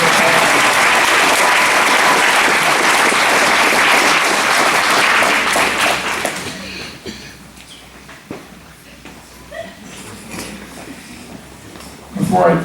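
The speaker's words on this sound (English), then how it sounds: "Let's just give them a big round of applause." A crowd at a baseball celebration in Ball Ground, Georgia gives loud, dense applause for the players for about six seconds. It fades to scattered claps and quiet room noise, then a brief burst returns at the very end.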